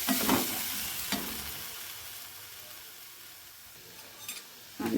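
Ginger garlic paste sizzles steadily in a hot pan, with a few scraping stirs at the start and end and the frying hiss dying down in between.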